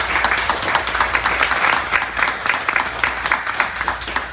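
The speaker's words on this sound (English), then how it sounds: "let's give our panelists a round of applause." A crowd applauds steadily, dense clapping that holds at an even level throughout without pause.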